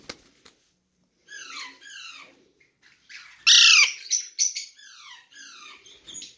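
Hungry lovebird chicks of the pale fallow mutation squawk in a breeding setup, giving bursts of harsh, rasping begging calls with short gaps between them. One loud, close squawk stands out midway, and softer calls follow.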